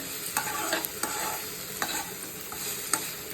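Leafy greens stir-fry in a pan with a steady bright sizzle, punctuated by repeated light scraping and stirring strokes of a utensil against the pan, close and clear, with no talk.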